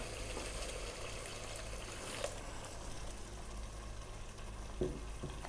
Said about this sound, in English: I'm now going to add some water.